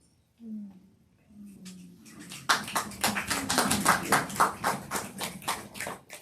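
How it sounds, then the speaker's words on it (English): An audience at a comedy and poetry event breaking into clapping that builds to dense, steady applause, with a voice briefly heard just before it starts. "You're clapping like I'm dumb."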